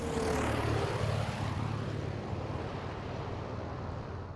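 A small propeller airplane flies into the Logan Cache Airport in Utah, its engine droning steadily and fairly loud as it passes, with the sound gradually easing away.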